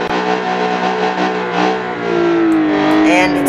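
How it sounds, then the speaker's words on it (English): A simulated car in BeamNG.drive does a burnout with brake and throttle held, its engine roaring loud and steady with strained harmonics, the pitch settling lower near the end as the revs hold, with no talking over it. "Just mash the brake and the gas, and you've got a burnout"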